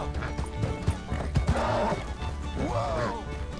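A blue roan Nokota horse in a video game neighs loudly twice amid clip-clopping hooves and a few thuds, all close and prominent.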